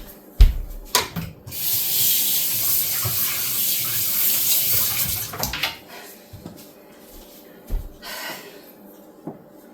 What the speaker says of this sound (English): I rinse my spoon out.